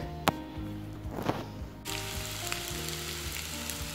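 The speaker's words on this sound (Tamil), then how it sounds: "நம்ம வேக வச்சிருக்க உருளைக்கிழங்கை சேர்த்துக்கோங்க. சேர்த்துட்டு நல்லா mix பண்ணி விட்டுருங்க." Boiled potatoes added to sautéed onions in a pan for aloo masala fry and sizzle steadily up close, with a brief clatter near the start and the hiss growing louder partway through.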